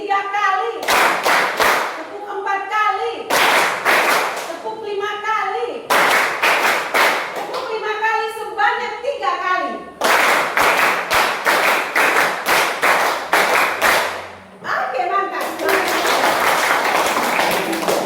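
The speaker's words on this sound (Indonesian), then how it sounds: "Tepuk tangan seru, tepuk sekali, tepuk 2 kali, tepuk 3 kali" A group claps hands together in counted sets, the bursts of claps growing longer as the count rises, sharp and close, with voices heard between the sets, during a field-practice class session.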